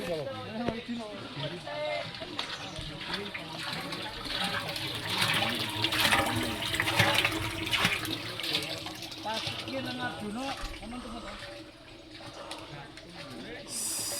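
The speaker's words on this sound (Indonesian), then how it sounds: "Itu sumber air. Mau minum? Sumber air. Ini ada sumber airnya." Water runs from a mountain spring beside a forest trail post on Mount Sumbing, a continuous close splashing flow with voices talking over it throughout.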